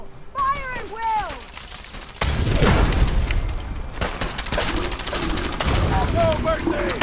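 Dense gunfire crackles through a battle in Fallout 4's Far Harbor, a rapid fusillade of shots and booms that starts after a shouted voice and keeps going loud and continuous, with yelling voices over the fight.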